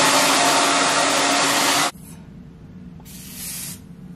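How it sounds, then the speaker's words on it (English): A hair dryer blows loudly and steadily at home, then cuts off abruptly, followed by a quiet pause and a short, softer burst of blowing. "Blow dryer."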